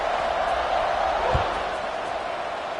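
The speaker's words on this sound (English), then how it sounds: "this crowd is buzzing after that last score" A college football stadium crowd at an FSU versus SMU game keeps up a steady, dense, distant roar of murmuring and cheering, with one brief dull thump midway.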